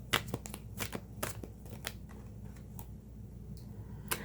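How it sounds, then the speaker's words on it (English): Tarot cards riffled and shuffled repeatedly in quick, crisp flutters and snaps, close up, with no voices. "All right, let's see if we can get this a little bit more shuffled."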